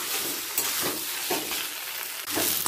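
Taro greens with a hilsa fish head being stirred in a pan over a gas flame, a steady scraping stir with light sizzling throughout, close and even, with no talk.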